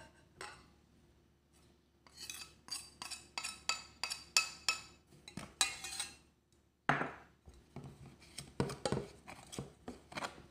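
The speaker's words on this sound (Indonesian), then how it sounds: "Kita campur ke adonannya." Corn fritter batter being stirred with tapioca flour, salt, seasoning and garlic, a utensil scraping and clinking against a bowl in a quick repeated rhythm, fairly close and moderately quiet.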